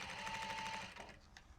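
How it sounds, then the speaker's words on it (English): A sewing machine top stitching a seam on a bumbag runs in a fast, close whir for under a second, then stops, leaving faint handling noise. "going to do a line of top stitching about 1 millimetre away from the edge"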